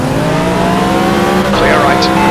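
A Mercedes CLK LM race car in the Project CARS game at Silverstone roars with a loud, sustained engine drone, another car drawing alongside, with a brief voice over the engine.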